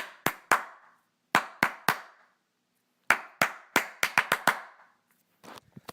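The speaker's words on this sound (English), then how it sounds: "I'm going to clap a couple times." Hands clap sharply in bursts of two or three, then a quick run of five, with echoing decay between, followed by a few faint taps.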